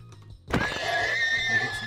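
A Minecraft horse lets out a clear, close whinny after a brief quiet moment, the bright neigh wavering for about a second and a half, with no talking.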